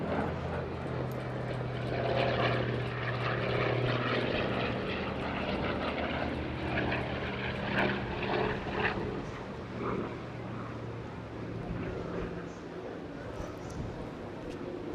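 A Hawker Fury FB.11 piston-engine fighter flies a display at the Eastbourne Airshow 2022, its propeller engine droning loudly and swelling as it passes, with a commentator's voice over the roar.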